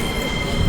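Metro train 81-740.2B standing in a station, a loud continuous rumble and mechanical roar with a heavier low thump near the end.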